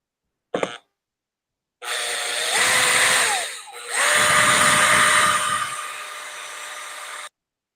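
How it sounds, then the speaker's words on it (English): A handheld power drill used on a craft piece whirs loudly and close, running in two steady stretches of several seconds each with a short dip between them, after a brief sharp knock. "she's doing it with a drill. It goes a lot faster."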